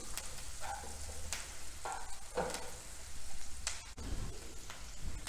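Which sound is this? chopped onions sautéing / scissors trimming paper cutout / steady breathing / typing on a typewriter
chopped onions sautéing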